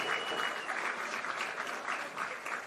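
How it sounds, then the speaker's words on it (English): Audience applause at the NPLW Victoria women's football grand final between FC Bulleen Lions and South Melbourne: steady, dense clapping from a distant crowd, fairly faint, with no talk over it. "Can we please have a big round of applause for FC Bulleen Lions and South Melbourne"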